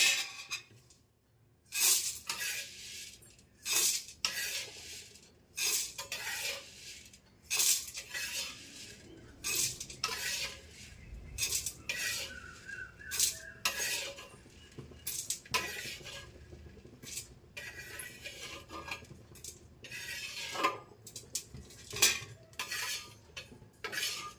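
Grains such as sago and corn being dry-roasted in a pan, with busy metallic scraping and clinking of a utensil stirring against the pan in quick repeated strokes throughout.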